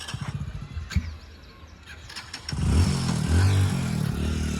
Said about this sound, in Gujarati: તો હવે હું બાઈક ચાલુ કરું છું.